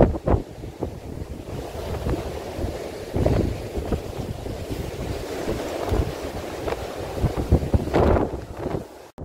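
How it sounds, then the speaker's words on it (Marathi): Strong, gusty wind on the Nageshwar trek near Chiplun, Ratnagiri, roars and buffets the microphone continuously, with loud surges and rumbling low-end blasts throughout. "एवढा प्रचंड प्रमाणामध्ये वारा आहे"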